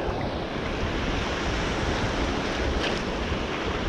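Small waves break steadily on a rough bay shore beside a sandbar, a continuous close wash of surf mixed with gusty wind buffeting the microphone, and no talking.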